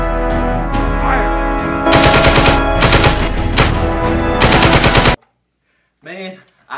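Loud rapid bursts of rifle and machine-gun fire in a war film trailer, repeated volleys over a dramatic score, then abrupt silence and a brief final burst.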